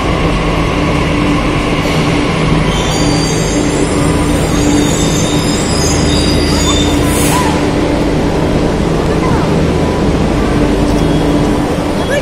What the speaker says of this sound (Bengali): তো এই যে মেট্রো চলে এসছে